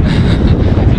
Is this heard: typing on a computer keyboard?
no